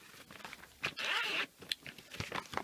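A zipper on a handmade bag sewn from an empty pet food bag, pulled in one bright rasping run of about half a second, with a few softer handling rustles and clicks before and after.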